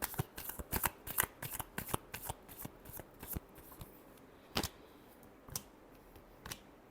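Tarot cards being shuffled by hand, a quick run of crisp riffling bursts followed by a few slower, spaced flicks, close and fairly quiet with no talking.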